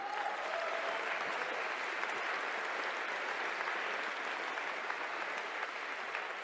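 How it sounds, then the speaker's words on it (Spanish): A conference audience at a Latin American political gathering breaks into sustained applause, a thick even wash of many hands clapping that holds steady and fairly loud, with no voices on top. "otro aplauso para nuestro querido compañero Evo Morales Ayma"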